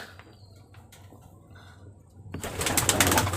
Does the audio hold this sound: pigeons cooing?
yes